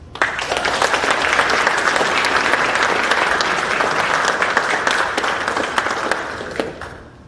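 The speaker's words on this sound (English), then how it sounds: "big round of applause again" Sustained audience applause at a military community town hall at Fort Sill, loud and close with crisp individual claps standing out of a full crowd, tapering off at the end.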